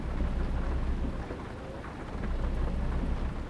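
Rain and rolling thunder in the American/Euro Truck Simulator 2 trucking game: a steady hiss of rain on surfaces with low rumbles of thunder swelling and easing, no voices.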